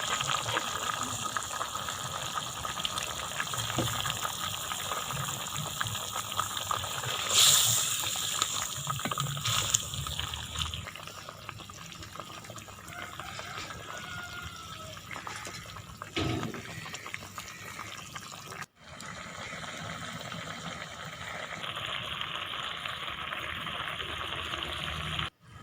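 Turnip cooks in water in a covered pot, giving a steady bubbling, simmering hiss that lasts throughout. Near the end it briefly changes and goes quiet. No one speaks.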